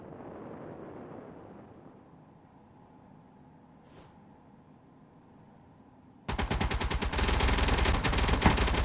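Ship weapons open fire on pirate ships in the space video game Space Engineers, a sudden loud stream of rapid automatic shots beginning after several seconds of quiet low ambient rumble and continuing steadily to the end.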